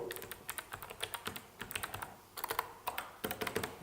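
Keys clatter on the SteelSeries keyboard of an MSI GT75 Titan gaming laptop, with quick, close, moderately clicky bursts of typing and short pauses between runs of strokes.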